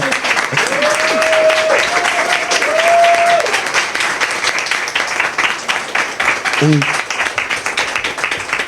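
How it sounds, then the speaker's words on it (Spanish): Audience applause at a talk on sexual education, continuous clapping with a voice speaking over it early on, fading toward the end. "Un gran aplauso"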